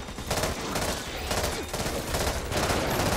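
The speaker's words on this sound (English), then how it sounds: "That was a big explosion." Back 4 Blood game combat erupts into a big explosion amid rapid bursts of gunfire, loud repeated blasts pulsing in waves across the whole stretch with no talk.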